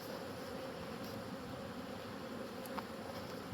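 Honey bees hum in a steady, close buzz while working over comb in a hive box, continuous and fairly faint, with no voices.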